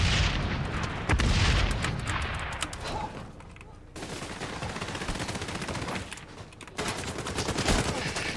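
A grenade explodes in the video game XDefiant, with a loud boom among continuous gunfire and blasts, and a person talks over the noise.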